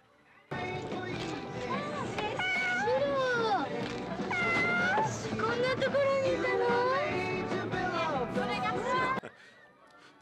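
A cat in the 1977 Japanese horror film House meows again and again: loud, drawn-out, wavering cries repeat almost without pause for about nine seconds, then stop abruptly.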